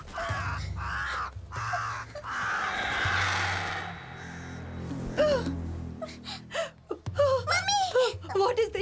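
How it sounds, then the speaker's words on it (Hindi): A crow caws in an outdoor eating spot in a dubbed Hindi horror film scene. Harsh calls come near the middle and end, mixed with gasps, moans and frightened speech over a musical drone. "बस एक कौवा है"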